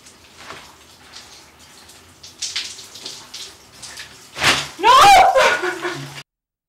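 A bucket of water dumped over someone for the ice bucket challenge lands as a loud splashing rush near the end, preceded by scattered voices and shuffling, then cuts off abruptly.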